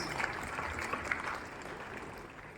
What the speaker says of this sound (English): let us clap for all the houses together